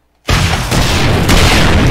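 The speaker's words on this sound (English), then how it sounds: "We're just fighting back and forth with rockets." Rockets explode in 7 Days To Die after a brief silence, a sudden loud boom followed by sustained roaring rumble and a second blast, close and heavy.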